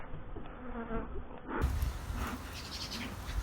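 A dense swarm of honeybees buzzes steadily close by at an open hive on a cold day, a thick droning hum that swells louder partway through, with no talking.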